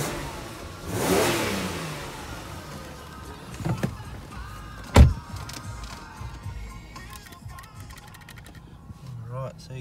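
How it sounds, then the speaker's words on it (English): The engine of a 2012 Ford Falcon XR6 starts and revs in a short rising burst, then settles to a low idle with a sharp thump partway through and faint voices around it. "Give it a rev."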